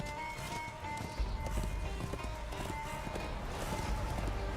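Horse in Darksiders 2 galloping, a quiet rapid hoofbeat rhythm under game ambience and music, with faint talking.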